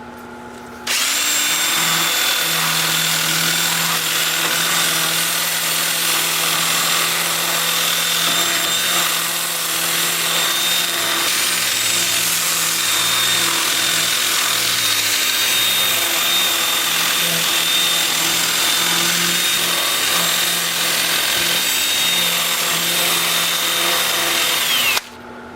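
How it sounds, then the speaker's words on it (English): A Sandoflex brush sands a cherry burl wood turning spinning on a lathe, giving a loud, continuous whirring hum with a rough abrasive hiss that holds steady throughout. "we'll just sand everything you can see here, everything that's unturned with the Sandoflex"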